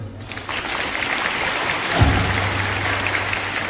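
Applause from the audience at a school annual function at Hashmi Inter College, a steady wash of clapping that swells slightly midway and carries on throughout.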